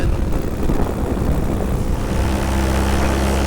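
A paramotor engine propels a Viper XC glider in cross-country cruise with the throttle set, giving a loud, steady propeller drone mixed with rushing wind, continuous throughout.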